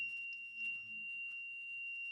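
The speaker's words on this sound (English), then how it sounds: "So this is just a stupid buzzer that emits a very, very irritating and annoying tone." A handmade piezo buzzer with tape wrapped around it emits a faint, steady, thin electronic tone that holds unbroken for the whole moment, with soft low background noise beneath.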